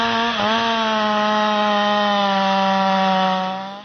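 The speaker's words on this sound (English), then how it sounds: "The steel MS661 chainsaw, renowned for its power and maneuverability, ripped through the dense heartwood, sending a cloud of sawdust skyward." A Stihl MS661 chainsaw cuts through dense tree heartwood, a loud, sustained high-revving whine with a brief dip in pitch as it bites into the wood before the motor tails off.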